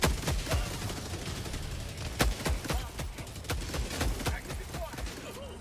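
Dense gunfire in the Helldivers 2 shooter game, sharp rapid shots and bursts cracking repeatedly throughout, with a voice talking over the battle.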